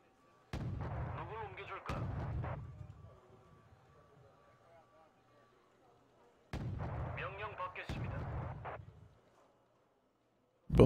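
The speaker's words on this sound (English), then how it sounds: "Bombarding my easy picking APC here." Artillery bombardment in the Wargame Red Dragon strategy game, heard as two clusters of loud booming impacts a few seconds apart, each a quick double burst that rumbles and fades before the next barrage.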